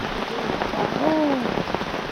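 Steady rain patters on surfaces outdoors, a continuous hiss with a short chirping bird call rising briefly over it.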